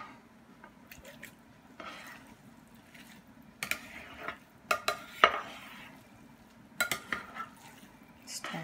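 Corn being stirred into a cheesy corn casserole mixture, a spoon clinking and scraping against the bowl in irregular bursts with soft wet squishing between, close and fairly quiet.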